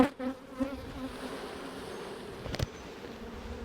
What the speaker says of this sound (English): Plenty of bees